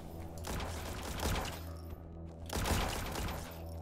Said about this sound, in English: God, it's a foam gun.